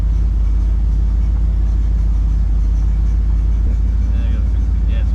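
A 1968 Cadillac Coupe de Ville, started for the first time in five years, idles with a steady, close, low rumble that holds evenly throughout while voices talk over it.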